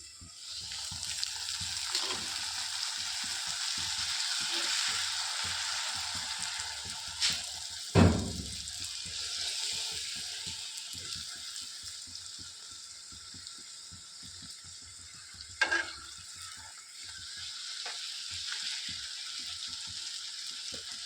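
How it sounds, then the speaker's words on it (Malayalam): Puri frying in hot oil, a steady close sizzle and bubbling that runs throughout with a couple of brief clunks, no voices over it. "അപ്പോഴത്തേക്ക് നമുക്കിതാ പൂരി പൊരിച്ചെടുക്കാം കേട്ടോ"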